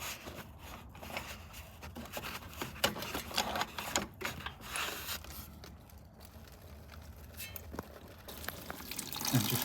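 Pressurised water from a heating system filling loop hose draining into a bucket, a faint uneven splashing trickle with small drips, close by and low in level.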